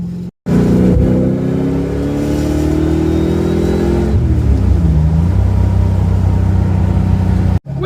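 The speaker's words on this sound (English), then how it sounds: "So loud, the exhaust is so loud." A Ford Mustang with a dumped exhaust revs loud and close, rising and falling through several throttle blips, then settling into a rough idle before cutting off abruptly.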